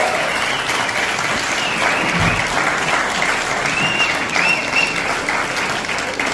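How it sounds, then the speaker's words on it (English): A crowd gives loud, sustained applause honoring a 101-year-old WWII veteran on Pearl Harbor Day, with many hands clapping in a thick, even roar close by. "So let's give this young man a round of applause."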